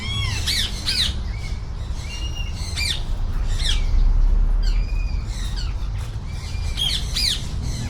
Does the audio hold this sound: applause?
no